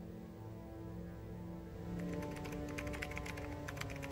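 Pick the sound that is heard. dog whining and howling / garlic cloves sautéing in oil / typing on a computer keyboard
typing on a computer keyboard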